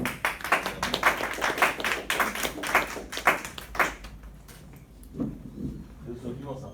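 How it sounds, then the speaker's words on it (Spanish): A small audience claps after a team's presentation, sparse separate handclaps for about four seconds, followed by people talking. "los últimos aplausos"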